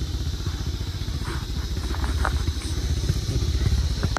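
A motorcycle engine putters steadily as it rides over a bumpy unpaved off-road track, with rattles and clunks from the rough surface.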